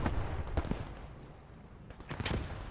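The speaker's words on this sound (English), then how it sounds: "He's throwing a second grenade." Explosive blasts from a grenade thrown by a player in the World War II shooter Post Scriptum during a tournament match, several sharp bursts spread across the stretch, loud and close, with gunfire-like cracks between them.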